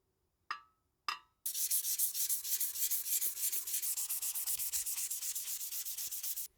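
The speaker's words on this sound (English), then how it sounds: "give it a quick polish with some fine grit sandpaper" Fine grit sandpaper polishes an etched pattern welded steel axe: two short scrapes, then a steady run of rhythmic back-and-forth rubbing strokes, close and crisp, with no talking.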